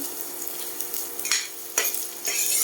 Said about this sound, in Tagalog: kailangan natin yung medyo maraming mantika nang maprito-prito ang ating mga sangka, ang hotdog natin